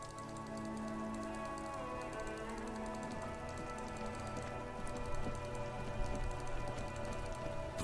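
Rain pours in the video game Disco Elysium, a steady patter of drops with a faint tonal ambient drone beneath, continuous and moderately loud without speech.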